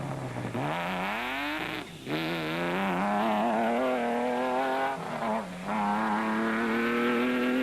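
A Ford Ranger race truck in the Sugarbelt 400 rally revs hard through rising gear pulls, with brief dips at the changes, loud and close for several seconds with no talking.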